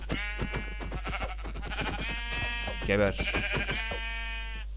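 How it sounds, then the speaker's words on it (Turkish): Sheep in the video game Minecraft bleating repeatedly, close and fairly loud, with one more forceful bleat near the middle, under a low steady hum while a player talks. "aha koyun"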